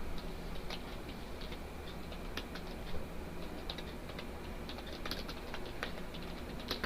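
Fingers typing on a computer keyboard, entering text into a spreadsheet cell: light, irregular key clicks in short bursts over a steady background hiss, no talking.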